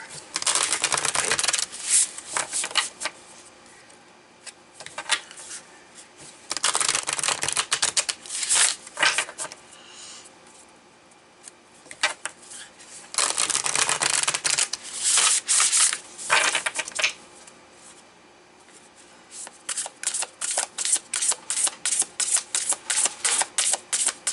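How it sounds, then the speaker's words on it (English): Tarot cards are shuffled and pulled, heard as bursts of crisp riffling and rubbing followed by a rapid run of sharp card snaps near the end, close and fairly quiet with no talking. "So let's pull some cards."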